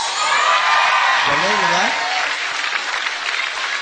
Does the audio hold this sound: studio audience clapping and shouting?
yes